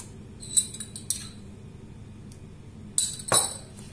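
A teaspoon clinks lightly against a bowl while water is added spoonful by spoonful to icing, with a few short, quiet metallic chinks spread out, near and alone.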